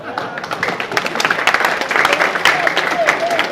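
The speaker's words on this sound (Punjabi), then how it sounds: "ਸਾਰੇ ਭਰਾਵਾਂ ਅੱਗੇ ਰਿਕੁਐਸਟ ਹੈ ਕਿ ਤਾੜੀਆਂ ਜ਼ਰਾ ਤੇਜ਼ ਮਾਰਨਾ।" A crowd at a prize-giving ceremony in a Punjabi village applauds continuously, dense clapping that swells toward the end, with a voice faintly audible underneath.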